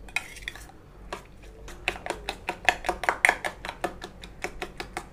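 Two eggs beaten by hand for an omelette, heard as quick, rhythmic clinks of a utensil against a bowl, close and crisp, starting sparse and then settling into a steady beat, with no talking.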